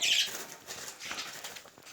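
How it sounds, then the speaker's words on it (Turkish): Nearby wings flutter and flap in short bursts, birds moving about close to the microphone, with faint rustling between the bursts and no speech. "Kuşlar var o yüzden kusura bakmayın."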